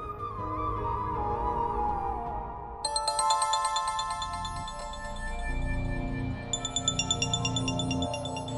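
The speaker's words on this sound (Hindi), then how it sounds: "सारा दिन इसका फोन बजता रहता है" A mobile phone ringtone plays loudly and repeatedly in a TV drama scene, a bright electronic melody ringing on without pause under a soft background music bed.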